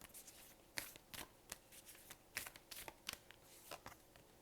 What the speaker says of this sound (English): let's pull one more card from my deck.